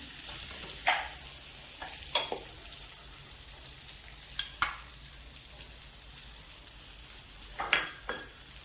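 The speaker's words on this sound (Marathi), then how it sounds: "अद्रक लसूण पेस्ट बघा ह्यात परतून घेऊयात थोडीशी" Ginger garlic paste fries in hot oil with a soft, steady sizzle, broken by scattered sharp clicks and scrapes of stirring through the pan, quiet and close.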